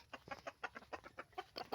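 A 7-month-old quarter-Peruvian rooster clucking in a quick run of short, evenly spaced clucks, fairly close and alone.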